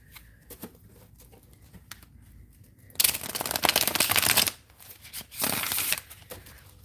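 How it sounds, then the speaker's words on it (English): A deck of playing cards is shuffled in two bursts of crisp riffling flutter, close and fairly quiet, with faint handling sounds around them. "This deck is pretty good too with the shuffling"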